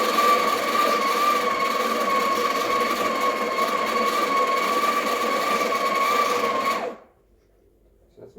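The built-in burr grinder of a Breville Barista Express BES870 espresso machine grinds coffee beans with a steady, high whirring buzz for about seven seconds, then stops abruptly, leaving near silence and a faint click.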